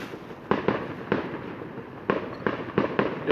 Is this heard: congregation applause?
no